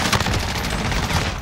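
Dense, rapid gunfire rattles continuously and loudly during a battle royale video game firefight, with bursts overlapping into a steady barrage and no talk.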